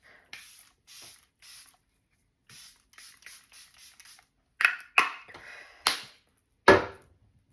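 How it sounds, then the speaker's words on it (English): Makeup setting spray hisses in a string of short, close bursts, several soft puffs followed by a few louder, sharper sprays near the end with quiet gaps between. "go in with a little bit of setting spray first."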